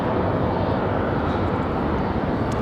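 A Boeing 737-700 airliner roars loudly and close on arrival at Raleigh-Durham International Airport, a dense, steady jet rumble filling the whole short stretch without a break.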